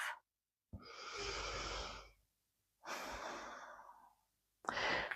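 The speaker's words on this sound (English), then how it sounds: "One breath." Slow, deep breathing during a slow yoga flow, heard close and alone as long drawn-out sighing exhales, with a brief breath at the start and the next one beginning at the end.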